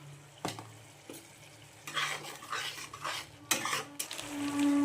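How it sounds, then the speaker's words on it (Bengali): Spice paste being stirred and fried in a pan produces intermittent scraping strokes and metal clinks over a soft sizzle, with no voices. "মশলাটা ভালো করে কষাবো"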